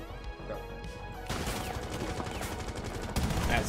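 Rapid bursts of video game gunfire in a first-person shooter crackle over a dense, noisy background, growing slightly louder toward the end.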